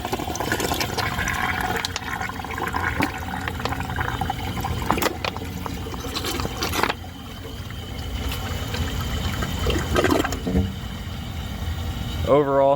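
A restored toilet flushing with its original flush valve, water rushing and gurgling steadily, then the tank refilling with hiss and trickle, close and fairly loud, with no voices.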